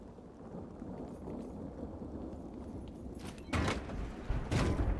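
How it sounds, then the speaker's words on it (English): Steady heavy rain hisses throughout a thunderstorm in the video game The Cycle: Frontier, with a loud thunder crack and rumble breaking in near the end. "batten down the hatches, and we'll just ride the damn storm out."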